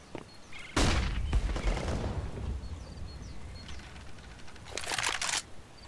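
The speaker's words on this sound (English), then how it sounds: "Flashbang." A flashbang grenade goes off in the first-person shooter CS:GO during a competitive 5v5 match, a sudden loud blast with a rumbling tail, followed by a bright ringing burst a few seconds later.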